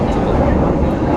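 A KRDE Prameks train departs Klaten station in Indonesia, giving a loud, steady low rumble that fills the short moment, with voices faintly mixed in.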